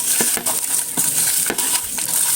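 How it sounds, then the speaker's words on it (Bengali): Green and dried chillies with salt are stir-fried in a pan for bharta. Repeated scraping strokes sound over a faint sizzle, close and steady. "এখন এই যে কিছুটা লবণ দিয়ে নেই। দুই রকমের ভর্তা বানাবো, ভালোভাবে কষিয়ে নিই মরিচগুলো।"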